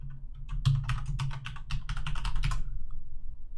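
Quick, irregular keystrokes clatter on a computer keyboard as a Wi-Fi name and password are typed in. The bursts are close and crisp and last about three seconds before they stop, with no talking.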